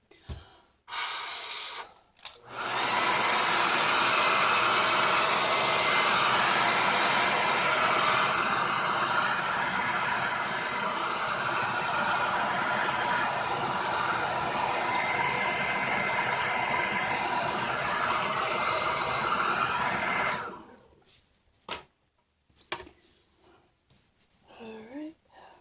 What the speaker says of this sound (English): hit it with a blow dryer